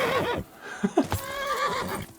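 A horse neighs in Kingdom Come: Deliverance 2, a sharp whinny rising out of ongoing game ambience, with a few quick knocks like hoofbeats near the middle.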